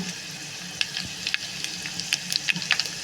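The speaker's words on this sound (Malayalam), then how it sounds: "കടുക് പൊട്ടി" Mustard seeds crackle and pop in hot oil for palak pappu, quick sharp snaps scattered irregularly over a soft, steady sizzle, close by.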